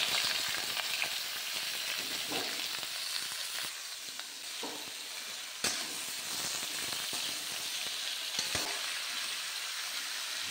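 Onion, chilli, garlic and ginger masala fries in hot oil with a loud, steady hiss and crackle, broken by occasional stirring scrapes and clinks, with no talking.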